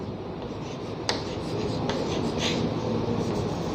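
Chalk scraping and rubbing across a classroom board as a class-10 chemistry heading is written, a continuous gritty rasp with a few sharp taps, close and fairly loud with no talking.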